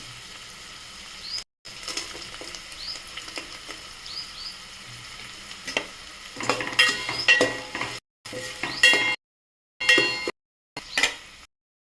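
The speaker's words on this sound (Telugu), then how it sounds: "ఇప్పుడు ఇవన్నీ ఇలా కొంచెం వేగేలాగా తిప్పుదామండి" Vegetables salted and stirred in a pan for a yogurt chutney, sizzling steadily with scraping stirs and clinks of a spoon against the pan, broken by short pauses, close and alone without talk.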